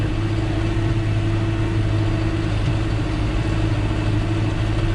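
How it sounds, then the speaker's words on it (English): A tractor pulling old blue harrows across a field runs with a loud, steady, low engine drone and hum that stays constant throughout, with no voices heard. "There's your tractor."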